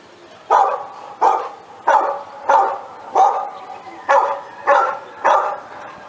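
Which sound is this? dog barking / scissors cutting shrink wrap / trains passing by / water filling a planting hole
dog barking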